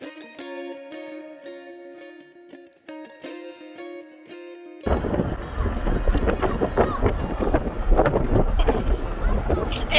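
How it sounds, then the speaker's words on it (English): Wind buffets a microphone outdoors at an autumn apple-picking outing, rough gusty rumble breaking in abruptly halfway through after a stretch of music, then blowing loud and continuous to the end. "is it too windy for you?"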